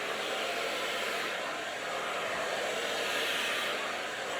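Close, continuous whooshing of a hair dryer aimed through hair as a brush works a blunt cut smooth, holding a constant level for several seconds without speech.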